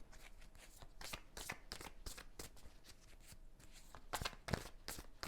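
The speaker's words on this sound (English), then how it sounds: "Two more shuffles, please." Crisp riffling bursts of tarot cards being shuffled, several quick flurries close by with brief pauses between, no talking.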